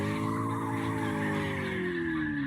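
A truck drifts on the handbrake in CarX Drift Racing, giving a sustained tire squeal and engine whine whose pitch slowly falls while it stays loud and unbroken.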